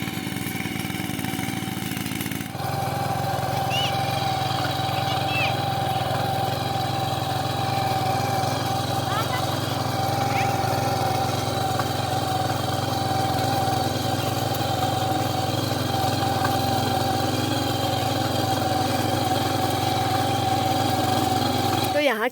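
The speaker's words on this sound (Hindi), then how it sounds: "ये ऊपर में लग रखा है ट्रैक्टर।" A tractor ploughing a hillside field in the Kumaon hills, its engine running steadily in the distance with a continuous mid-pitched drone, while a voice talks over it.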